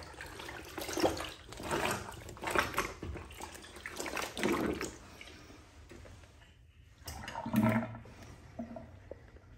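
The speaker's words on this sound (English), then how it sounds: "So we're going to drain the water and have it rinse." Water drains and rinses from a soak of indigo-dyed jeans, a gurgling, splashing flow in uneven surges over about ten seconds, with a short quiet gap near the end.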